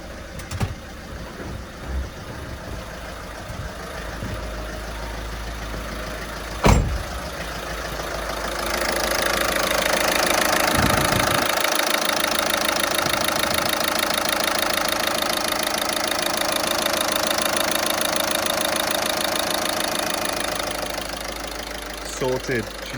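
A VW Caddy van engine starts and settles into a steady idle after fuel injector replacement, with a low, continuous mechanical hum and a few clicks and bumps around it.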